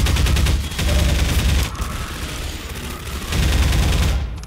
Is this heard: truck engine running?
no